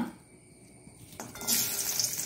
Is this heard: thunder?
no